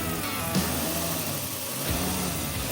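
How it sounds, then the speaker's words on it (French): Volkswagen Golf 3 VR6 engine running just after starting, a steady, throaty mid-pitched idle with slight swells in revs, close and continuous with no voices. "Ah, ça fait plaisir d'entendre rugir le VR6."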